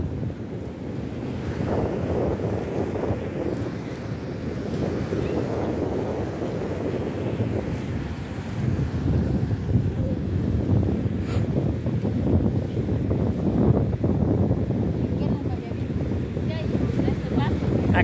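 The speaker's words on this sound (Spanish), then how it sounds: "Está rica la brisa aquí" A sea breeze blows steadily near a harbour, buffeting the microphone with a continuous low rumble and gusts that grow slightly stronger toward the end, with waves washing faintly underneath.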